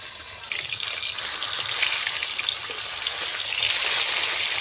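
Lata fish hit hot oil with a sudden loud sizzle that settles into a steady, close, crackling fry with no voices.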